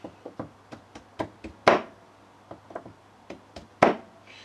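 A big flat-blade screwdriver taps a grease-packed bearing into place, giving a string of sharp, close knocks at an uneven pace, with two harder blows standing out among the lighter taps.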